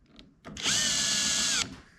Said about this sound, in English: I just used the drill with the clutch again, the clutch on its highest setting.